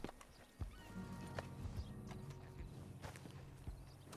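A horse in the video game Red Dead Redemption 2 whinnies and snorts while hooves clip-clop at a slow walk, close by, with some rustling in the background.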